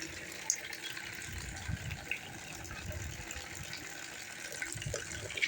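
Rainwater gushes and pours, filling up on a farm during a monsoon downpour, a continuous rushing, splashing flow heard close, with occasional faint background voices.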